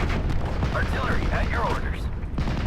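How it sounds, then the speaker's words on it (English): Artillery fire in the WWII strategy game Steel Division: Normandy 44, a steady rumbling barrage of distant blasts with a voice talking over it. "Toss some artillery on those guys."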